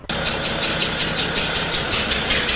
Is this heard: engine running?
yes